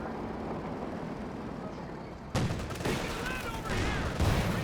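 Tank cannon fire and battle noise from a Company of Heroes 2 match with Panzer IVs, a steady din of gunfire that jumps into a loud, dense burst of shots and blasts partway through.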